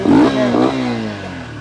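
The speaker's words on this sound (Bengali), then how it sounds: "এয়ার ফিল্টার খোলা, মানে আওয়াজ প্রচুর সাউন্ড হচ্ছে, অ্যাক্সিলারেটর সাউন্ড হচ্ছে" A Lifan KPR motorcycle engine without its air filter revs loudly and close by, two quick rising throttle blips followed by a steadier, falling drone.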